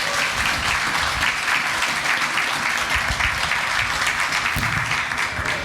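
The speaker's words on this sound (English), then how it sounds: "Go a big round of applause for David, please." Audience at a Galaxypalooza 2026 fan convention event applauding guest David Whiteley, a dense, steady wash of clapping from a large crowd, loud and continuous throughout with no gaps.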